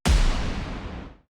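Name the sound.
sub boom created with Jaeger sample library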